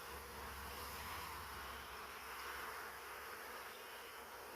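A faint, steady hum of package honeybees gathers at a hive entrance, soft and continuous with no voices.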